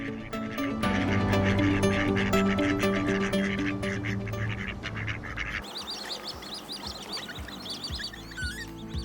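Ducks quack on a duck farm in Iowa: a dense chorus of nasal calls over a loud backing of music, and later a busier, scattered flock chattering closer by.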